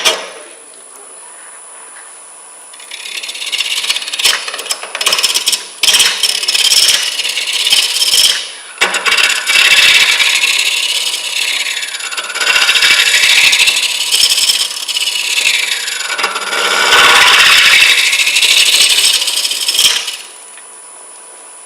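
A wood lathe gouge cuts a green wood bowl in a steady, loud scraping drone. The sound swells and fades in slow waves as the tool sweeps across the spinning workpiece, then stops abruptly.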